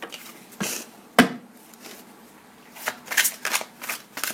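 Tarot cards are handled and shuffled up close, with soft papery flicks and a sharp snap, then a quick ruffling burst toward the end, all fairly quiet.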